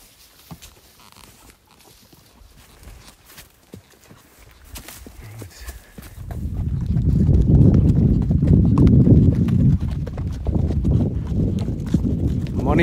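Horse hooves clip-clopping during a safari ride toward a forest, starting faint with scattered steps, then louder steady rhythmic hoofbeats up close from about six seconds on, with a voice talking over them.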